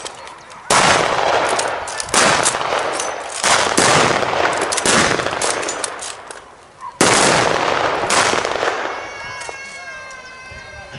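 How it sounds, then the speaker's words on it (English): WWII-era Lee-Enfield No. 4 and Mark III bolt-action rifles firing in a living-history display, with a series of loud, sharp shots at irregular intervals, each followed by a brief echoing decay, and voices speaking in between. "number fours, or Mark threes, open fire."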